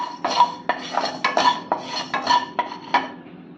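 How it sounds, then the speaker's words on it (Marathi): Fenugreek seeds and salt roasted in a pan for a raw mango pickle, stirred with a metal spoon that gives a steady series of close, loud scrapes and clinks in a regular rhythm. "हे मेथी दाणे आहेत हे परतून घेऊ"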